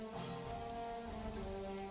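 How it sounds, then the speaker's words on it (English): Steady, faint rain patters on surfaces at night in the game Jagged Alliance 3, a soft continuous hiss with low tones underneath. "We're under cover of darkness and rain, I think."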